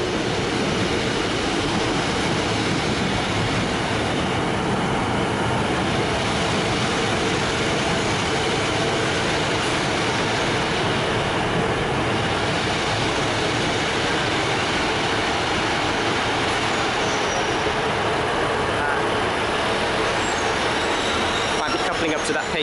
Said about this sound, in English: Might be coupling up to that Pacer unit.